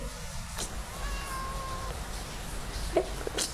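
A cat gives one drawn-out, fairly soft meow, followed by a few faint clicks and rustles nearby.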